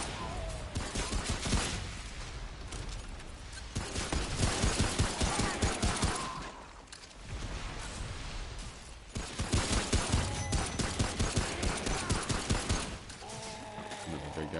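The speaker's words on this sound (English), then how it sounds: "I'm shooting him right in the fucking shoulder" Automatic gunfire in the video game Remnant: From the Ashes rattles in long bursts separated by short pauses, loud and close, with a player talking over it throughout.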